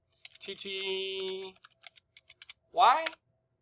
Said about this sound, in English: So you can go to Google again, type Mtty